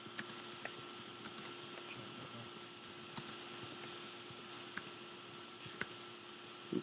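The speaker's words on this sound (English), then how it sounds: "So I'm going to go ahead and type in" Someone types on a computer keyboard: scattered, uneven keystroke clicks over a faint steady hum, nearby but soft.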